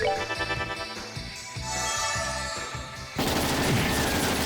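Cyclone Napalm attack in the RPG Trails in the Sky SC: a rapid stutter of gunfire-like bursts over a musical battle drone, giving way to a loud roaring explosive blast for the final second.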